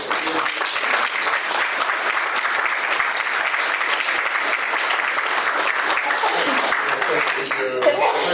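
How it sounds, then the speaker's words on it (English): Audience applauding the candidates at a city business alliance candidate forum, a steady, dense round of clapping that fills the clip at even loudness, with a faint voice near the end. "I think they deserve a round of applause."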